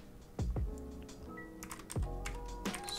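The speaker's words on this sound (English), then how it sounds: "So I'll write a string" Code being typed on a computer keyboard for an Android music player app, a few sharp keystrokes standing out over a steady background clatter and hum, close and fairly loud.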